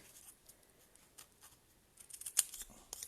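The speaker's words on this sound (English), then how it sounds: "we need snips. And we are simply going to cut down, roughly," Snips cutting through card in a craft session, a few faint scattered snicks building to a sharper louder cut near the end, quiet room with no talking.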